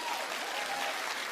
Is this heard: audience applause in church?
yes